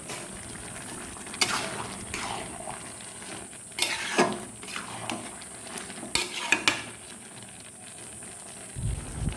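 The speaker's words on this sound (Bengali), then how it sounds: "আবারও ভালো করে নেড়ে নিলাম" A spoon stirs chickpea and paneer curry in a pan, close and irregular, with scraping strokes and occasional metal clanks against the pan over a faint, steady sizzle.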